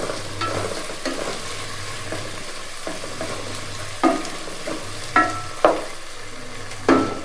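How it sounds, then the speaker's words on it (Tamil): Tomatoes cook in a hot pan with a low continuous sizzle, broken by several distinct, fairly loud scrapes of a spoon stirring at uneven intervals. "இந்த தக்காளி வெந்துக்கிட்டு இருக்குது"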